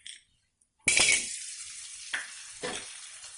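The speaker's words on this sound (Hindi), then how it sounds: "इसी तरीके से सारा गोंद हम भून लेते हैं, अच्छे से सेक लेते हैं गोंद को।" Gond, an edible gum, roasting in ghee in a kadhai, with a bright hiss that flares up abruptly and fades to a steady sizzle, then two shorter bursts of stirring and frying, close and alone.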